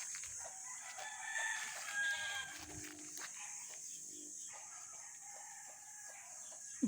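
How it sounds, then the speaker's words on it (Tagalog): Chickens cluck softly nearby among hot, dry outdoor farm ambience beside dwarf coconut trees, with a rooster crowing faintly in the distance. "May mga manok din dito."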